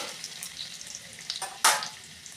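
Chopped garlic hitting hot oil with cumin in a home kitchen pan while stuffed kakrol is made, giving a steady soft sizzle that jumps to a sharp, louder burst of frying near the end, with no voices.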